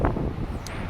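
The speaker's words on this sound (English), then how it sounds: "Getting into quite a bit of wind right here." Strong wind buffets a microphone on a city street downtown, a dense, steady roar filling the short moment with no talk over it.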